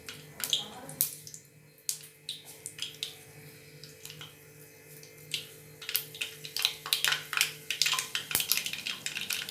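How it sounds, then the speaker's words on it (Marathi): Mustard seeds crackling and popping in hot oil in a pan while cooking masala stuffed brinjal, a quiet string of sharp irregular pops that grows denser toward the end over a faint steady hum. "मोहरी चांगली तडतडली आपली"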